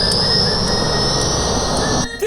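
A cartoon helicopter flies away, heard as a loud steady engine whine with a high sustained tone and faint rhythmic thumps, cutting off sharply near the end.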